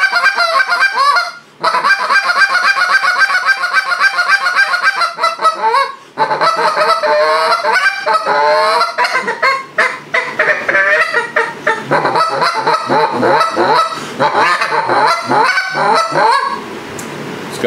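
Goose call fitted with red, white and blue guts blown in a long, continuous run of honks, clucks and moans, loud and close with no talking.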